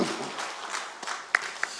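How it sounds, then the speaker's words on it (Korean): Church congregation applauding during a Sunday service: a brief, steady wash of many hands clapping, with a couple of sharper single claps standing out near the end. "우리 다시 한번 하나님께 영광의 박수 올려드리겠습니다."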